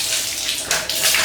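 Water gushes from an opened tap to wet a mop during home cleaning, a short loud steady rush with a slight surge partway through, no voices.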